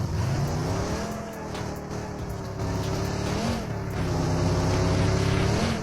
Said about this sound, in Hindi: कार इंजन की बात करें तो आवाज 150 मीटर तक आ सकती है।